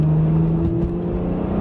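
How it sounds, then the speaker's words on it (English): A BMW 1M accelerating hard, its engine holding a steady, loud, close drone with a strong low tone throughout the short pull. "Wow, this car just accelerates."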